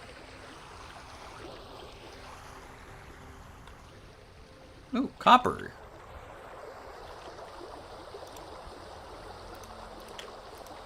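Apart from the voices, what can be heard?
rushing river rapids in the video game Vintage Story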